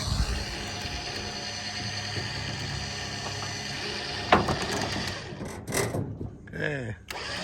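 A Super Winch rated at 9,000 pounds, rigged doubled up, pulls a rusted car onto a trailer, a steady mechanical whir and grind with a sharp clank partway through, then voices and clatter as it stops.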